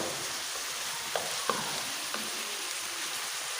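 Chicken pasta being stirred with black pepper and salt in a pan: a steady soft sizzle with a few faint scraping clicks of the utensil, no talking.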